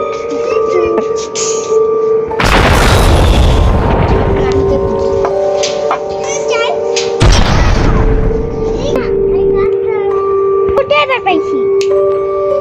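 Two booming shotgun blasts go off about five seconds apart in the horror video game Granny Chapter 2, each a loud, broad burst that fades out over a steady background of game music and tones.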